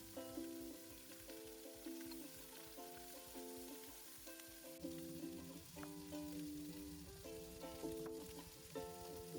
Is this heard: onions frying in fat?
yes